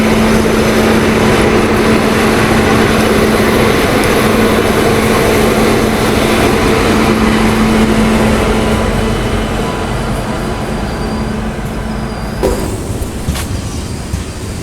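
A train pulls out of Visakhapatnam towards Araku with a loud, steady rumble and a sustained engine drone heard from on board. The noise eases slightly toward the end as a faint clank sounds.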